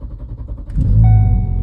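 A car engine cranks and catches after an ECU reflash with a Cobb tuner, rising from a low rumble into a steady, fairly loud idle that holds to the end.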